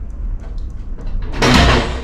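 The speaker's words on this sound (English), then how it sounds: "You will see the spindle rotating in the direction of the door swing." SA300 automatic door operator with its spindle turning in the direction of the door swing, a steady close mechanical whir that swells into a louder rushing, sliding rumble near the end, with no talking.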